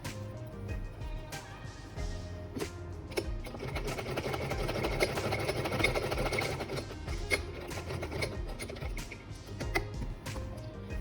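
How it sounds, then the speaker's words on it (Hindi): A sewing machine stitches an old face mask, its needle running in a steady mechanical whir with clicks and ticks at the start and stop, close and fairly quiet. "मैं यहाँ से सिलना स्टार्ट करूंगी"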